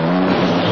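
A Porsche Carrera engine revs hard during a chase, a loud, steady mechanical roar with strong harmonic bands that hold throughout the short burst.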